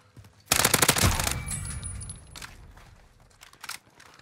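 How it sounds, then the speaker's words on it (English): Automatic gunfire in the Call of Duty: Warzone video game, a loud close burst of rapid shots followed by a few scattered fainter shots and clatter. "Receiving hostile fire."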